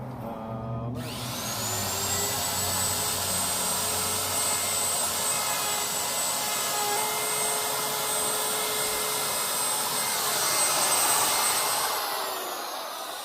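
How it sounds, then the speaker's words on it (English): A router cuts a rabbet joint into a wooden closet door jamb outdoors, spinning up after a click into a loud, steady high-pitched whine with a grinding edge, held for about twelve seconds before winding down. "Let's run this router and see what happens."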